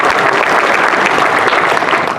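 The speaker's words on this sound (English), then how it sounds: "Another round of applause is great." Dense, steady applause from a large audience at a Merchant Marine Academy graduation ceremony, loud and continuous throughout with no break.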